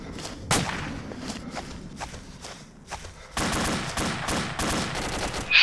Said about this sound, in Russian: Стреляю с рук.